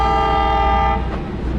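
A train at the Strasburg Rail Road in Pennsylvania sounds a loud, sustained horn blast that fades into a rumbling rolling-stock noise as it approaches, with no talking.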